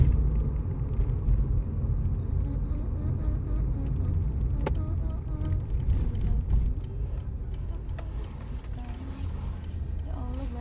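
Steady low engine rumble and road noise from inside a car driving at night, continuous and fairly loud with faint ticking over it, no talk.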